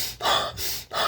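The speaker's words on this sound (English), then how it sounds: "Breathe in through your nose, really intense and deep, and breathe out really fast through your mouth." Intense hyperventilation breathing, deep forceful inhales through the nose and fast exhales through the mouth, three rapid loud breaths heard up close with no talking.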